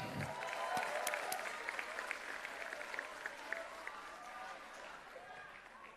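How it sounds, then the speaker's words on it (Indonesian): A party crowd welcomes the new PSI chairman with applause and cheering at a political gathering, a distant, reverberant roar of clapping under a loud announcer's voice, fading gradually. "Kita sambut dengan tepuk tangan yang meriah, Ketua Umum PSI."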